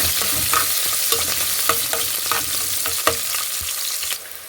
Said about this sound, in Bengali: এখন পিয়াজ কুচি আর মরিচ কুচি এখানে অ্যাড করে দিলাম এখন এটাকে হালকা একটু নাড়াচাড়া করে দিতেছি